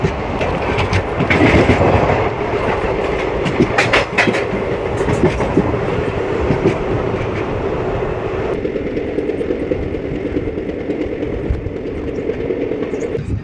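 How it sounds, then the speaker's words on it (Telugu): Sarkar Express passenger train pulling into Akividu station, a steady close rumble of carriages with clickety-clack of wheels over rail joints, easing off toward the end, with no voices. "మన ట్రైన్ అయితేనండి ఆకివీడి అయితే వచ్చేసింది కదా"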